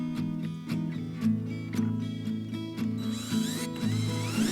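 An auger bit bores a latch hole into a wooden door of an off-grid cabin, giving a steady ratcheting, grinding churn with rhythmic turns and chips loosening, close and alone.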